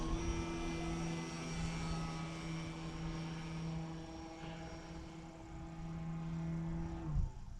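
A large Hanger 9 Timber 110 RC airplane with flaps deployed drones steadily overhead at moderate distance, its engine tone holding level before dropping away near the end.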